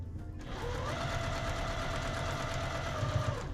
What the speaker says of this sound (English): I did sew over my pins. I usually try and go a little bit slower